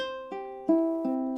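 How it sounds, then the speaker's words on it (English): Plucked ukulele notes ring out one after another in a slow descending pattern, clear and close, with no voices. "That gives us a descending arpeggio."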